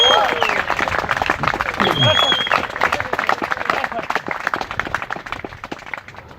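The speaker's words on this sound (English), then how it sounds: "would you please make a really huge round of applause?" Wedding guests clap together in a room, a dense burst of applause that thins and fades over several seconds, with crowd chatter mixed in.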